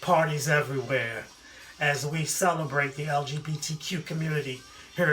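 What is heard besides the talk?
No everyday noises stand out.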